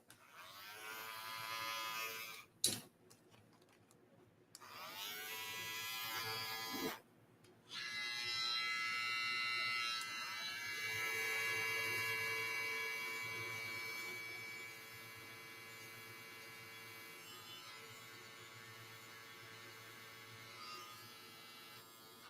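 Andis hair trimmers, including corded T-liner models, run with a steady electric buzz that cuts out briefly twice before resuming, then hum on continuously at close range with no talking.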